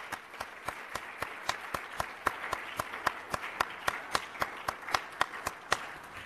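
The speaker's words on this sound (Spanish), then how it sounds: "Un fuerte aplauso para todos." Audience applause closing an academic alumni panel, heard as sparse, distinct claps from a small group, steady and fairly close, with no talking over it.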